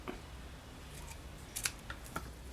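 Scissors snip a paper craft piece, a few faint, quick cuts close by in a quiet room.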